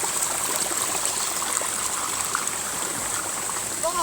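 Water from a stream flows steadily along a small forest channel, a continuous bright rushing wash close by with a faint whistle-like tone near the end; no talking.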